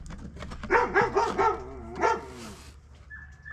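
A dog barks in a rapid run of several close, loud barks followed by one more, then a faint high tone lingers as the barking stops.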